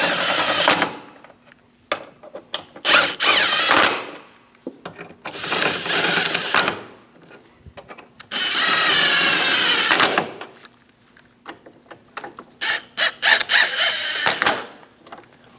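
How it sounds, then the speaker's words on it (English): Ratchet snugging down Torx bolts on a headlight bracket of a 2001-2006 Chevrolet Silverado 2500 HD, several close bursts of rapid clicking separated by short pauses, loud and alone. "Snug down the Torx bolts."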